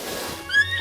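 A horse in the video game The Legend of Zelda: Breath of the Wild gives a short, loud whinny, its high wavering neigh rising sharply over the game's steady background sound.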